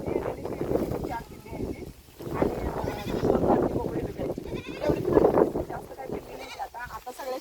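Goats bleat repeatedly nearby while people talk over them.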